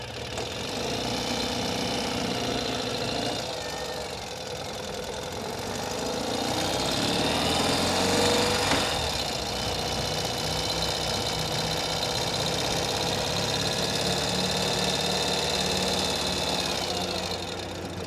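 A Ural sidecar motorcycle engine runs steadily throughout, a continuous mid-pitched hum that swells slightly in the middle as the rig is balanced, with no talking.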